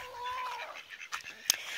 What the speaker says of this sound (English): So now all the chickens are out